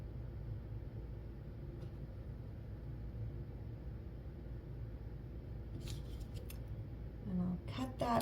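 Scissors snipping through fabric for a quilt appliqué, a few quiet close cuts with soft clicks over low room noise, with someone talking faintly.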